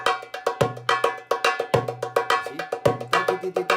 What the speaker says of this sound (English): some of the older drummers used to round the maqsoum itself to almost sound like a wahda ونص